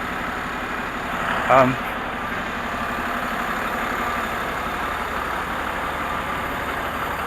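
A large vehicle idles with its motor running on a street, a steady low rumble throughout, close and even, with a brief voice partway through.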